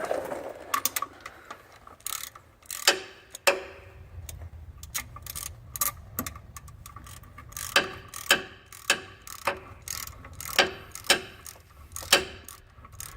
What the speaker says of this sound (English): use a 5/8 ratchet